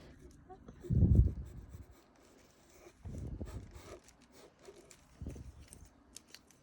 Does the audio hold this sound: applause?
no